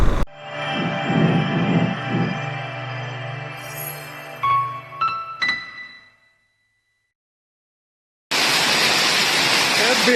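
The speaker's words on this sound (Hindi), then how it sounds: "तो गाइस बारिश शुरू हो चुकी है घमासान" Heavy rain on the way to Tungnath cuts in abruptly after a few seconds of silence, a steady, loud, even downpour roar, preceded by earlier tonal sounds and sharp clicks.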